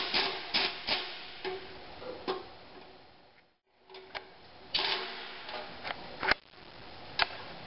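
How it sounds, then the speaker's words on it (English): Metal wrench and socket work loosens the six small cover bolts on an Earthquake 3300V front tine rototiller, producing a series of sharp ratcheting clicks and taps in uneven bursts with a brief pause midway, close and fairly quiet. "Now we can remove the 6 smaller bolts."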